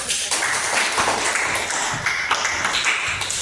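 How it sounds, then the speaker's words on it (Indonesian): A classroom of students applauds together during an Islamic religious education lesson, a dense, steady patter of many hands clapping at close range for a few seconds. "Tepuk tangan untuk kita semua."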